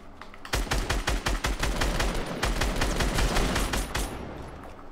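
Rapid bursts of automatic gunfire from a video game shootout, dense repeated shots firing in quick succession for several seconds, loud and close, with no talk over it.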